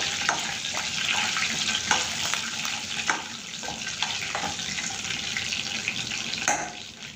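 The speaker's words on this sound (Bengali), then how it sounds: "তো ফোড়নের জন্য আমি দিয়ে দিচ্ছি 2টো তেজপাতা আর কিছু গোটা মশলা দিয়ে একটু ভেজে নিব।" Two bay leaves and whole spices fry in hot oil for a tempering, giving a steady close crackling sizzle with a few sharp pops and stirring clicks, fairly loud throughout.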